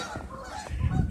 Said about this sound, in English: And there's some geese.